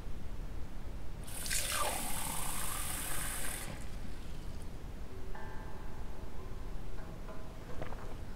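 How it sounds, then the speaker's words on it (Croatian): Water pours in a steady hissing stream for about two seconds, then a few quieter sips and small liquid sounds follow in a calm indoor space. "Čekaj da popijem još malo vode."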